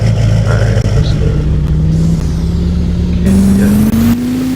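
A semi truck's engine pulls steadily under acceleration, loud and close, with a low drone rising gradually in pitch over several seconds and no talk.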